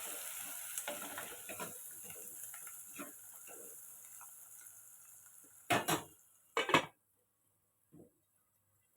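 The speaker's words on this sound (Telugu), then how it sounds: "కొంచెం ఇంగువ వేసుకుందామండి, ఇంగువ అనేది వేయలేదు, సరిపోద్ది. వేసి మిక్స్ చేసేసుకుందాము." Okra bajji batter with asafoetida being stirred in a bowl, a steady soft mixing and faint frying sizzle, then a few louder scraping knocks of the utensil near the end before quiet.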